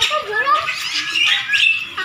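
A calak bird squawks in a mini aviary, a run of harsh, rasping, chattering calls close by that fill the whole clip with no speech.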